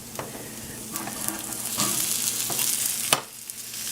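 Vegan, gluten-free breakfast patties fry in oil in a pan over medium heat, with a continuous close sizzle and crackle and occasional louder pops and spatters.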